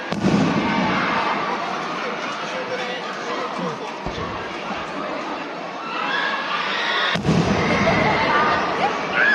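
Festival fireworks pop and burst in the open air, with a sharp loud crack near the end, while a crowd chatters and laughs throughout.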